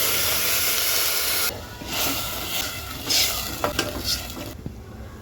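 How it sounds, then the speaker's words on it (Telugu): Soaked chana dal tipped into hot tempering oil in a pan for gongura curry, giving a steady close hiss of sizzling that drops to a quieter crackle, with brief stirring scrapes. "నానబెట్టుకున్న శనగపప్పు పోపులో వేసుకోవాలి."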